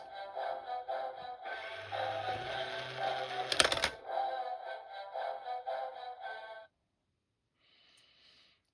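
A Godzilla coin bank plays electronic sounds and music, a tinny buzzing tune with a low tone and a harsh burst in the middle, then silence and a brief faint chirp.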